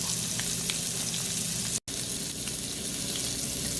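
Grouper fillet blackening in a hot pan gives a loud, continuous sizzle and crackle, steady throughout apart from one abrupt brief cut.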